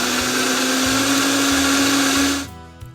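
A blender blitzing espresso into a thick coffee BBQ sauce, a loud, steady close-up whir running for over two seconds before cutting off abruptly.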